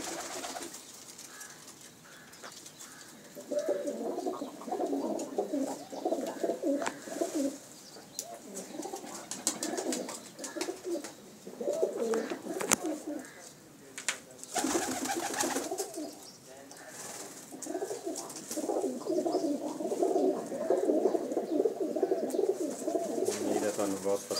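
Pigeons coo in repeated soft, throaty phrases close by, with several birds overlapping throughout alongside faint background chatter.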